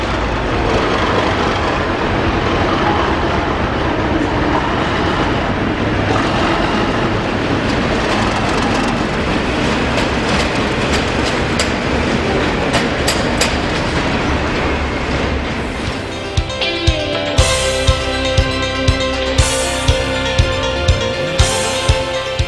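A Class 37 diesel locomotive, 37409, running along the line, loud continuous engine throb and wheel rumble, then sharp rhythmic clickety-clack of wheels over rail joints and a rising engine note near the end.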